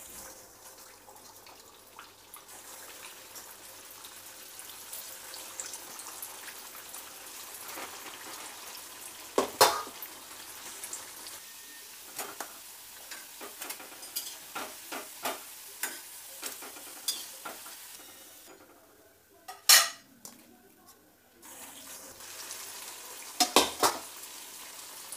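Aloo tikki, crispy spiced potato patties, frying in a pan with a steady low sizzle, joined by occasional sharp clinks and scrapes of a utensil against the pan and a few louder knocks near the end.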